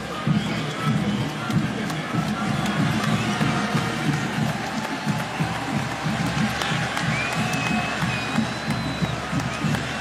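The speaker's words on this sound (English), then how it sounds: "listen to this crowd, give him an appreciation" A large stadium crowd at a football game roars and applauds as quarterback Dwayne Haskins comes onto the field, a dense continuous wash of cheering and clapping heard from a distance, steady throughout.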